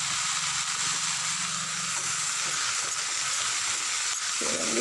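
Tomatoes dropped into a pan of gongura chicken set off a steady, loud sizzle of frying that runs throughout, with faint stirring scrapes and a slight shift in the hiss near the end.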